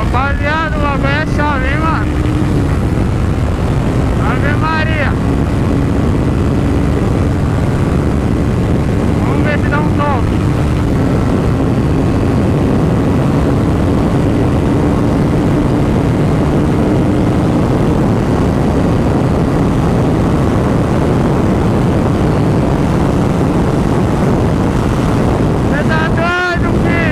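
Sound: Honda CBR motorcycle accelerating

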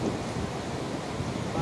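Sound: sea waves at high tide on Alibag beach

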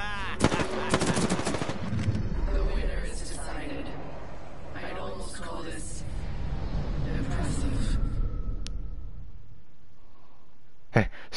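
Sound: gunfire in a video game

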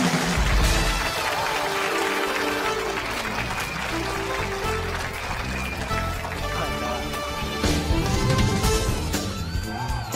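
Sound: warm applause from the audience

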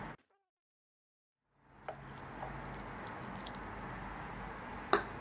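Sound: water being poured into rice and coconut for blending

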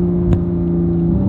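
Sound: supercar with stock exhaust accelerating

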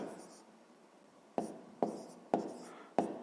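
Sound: pen writing numbers on paper

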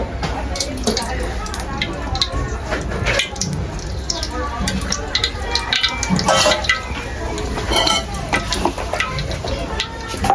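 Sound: frying onion oil poured into pan

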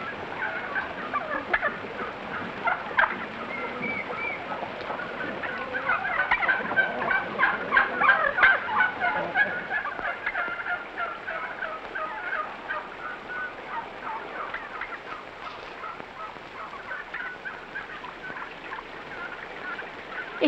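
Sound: turkeys gobbling

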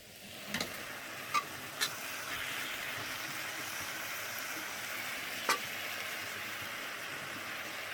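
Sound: frying water spinach greens in a pan

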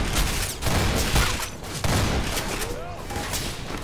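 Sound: gunfire and sniper shots in the video game Entropy Zero 2

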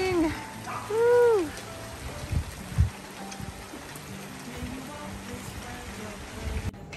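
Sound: rain

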